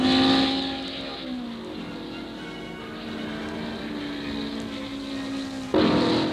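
A race car engine roars past at high revs on the Bathurst mountain circuit in 1960, holding a steady whine before another car surges loudly near the end.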